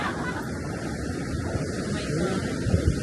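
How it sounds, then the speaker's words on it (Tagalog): Strong ocean waves wash in at a beach in La Union, Philippines, a continuous close roar and rumble mixed with wind buffeting the microphone. "ang lakas na naman ng alon"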